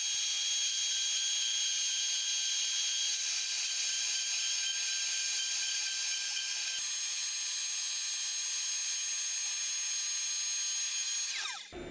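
A Makita router mounted on a CNC machine, its speed dial at the lowest setting of 1, cuts holes, giving a loud, steady, high-pitched whine that holds constant throughout before dropping away at the very end.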